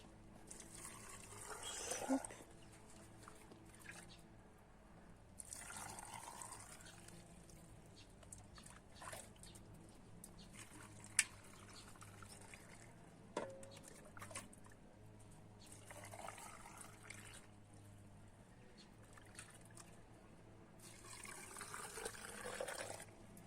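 Liquid marinade is poured into jars of tomatoes in several separate bursts, each a soft trickling gush, quiet and close, with pauses and faint handling noises between pours.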